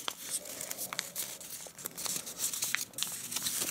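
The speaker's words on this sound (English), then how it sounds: "I'm going to fold this along this crease." Paper being folded into an origami ninja star (shuriken) gives soft, close crinkling and crisp rustling, with a few sharper creasing snaps and no talking.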